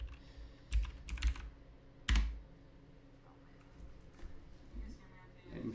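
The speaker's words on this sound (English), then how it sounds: "I'm sure you can hear my loud keyboard." A loud computer keyboard is typed on in a few quick bursts of sharp clicks, with short pauses between them, close to the microphone in an otherwise quiet room.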